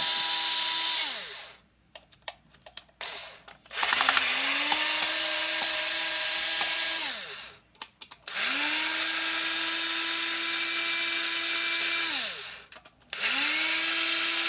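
A powered Torx driver spins out screws from a Black & Decker LBXR20 battery case in several loud whirring bursts, each winding up and down, separated by short pauses with small clicks.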